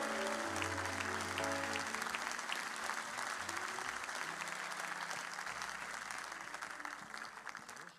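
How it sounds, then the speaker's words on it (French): A church congregation applauds and cheers to acclaim the Lord, a dense, steady wash of clapping that fills the room and slowly fades, with sustained organ or keyboard tones running underneath. "Est-ce qu'on peut acclamer le Seigneur?"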